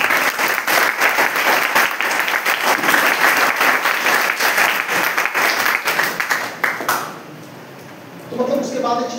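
A crowd at a university professor's visit breaks into loud, sustained applause lasting several seconds before it dies down quickly, with a voice starting up near the end.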